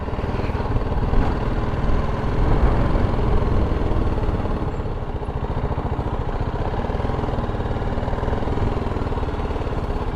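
A touring motorcycle on a Middle East trip idles close by with a steady, loud, low engine rumble and even pulsing throughout, with no voices over it.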